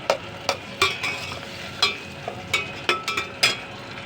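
Tomato, turmeric and chillies fry gently in a pan under a soft, steady sizzle, broken by about a dozen sharp clinks and scrapes of a spoon stirring at an uneven pace, close and moderately loud.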